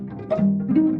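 A reversed sample played back through the Arcade plugin in FL Studio, a short, loud tonal swell with backward-sounding rising notes and no voice over it.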